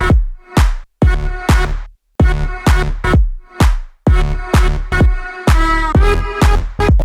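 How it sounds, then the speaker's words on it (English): Electronic groove of a sidechained sub bass, its deep tone pumping and ducking rhythmically under steady, evenly spaced kick hits, with brief dropouts between phrases. "Let's add some sidechain to that as well."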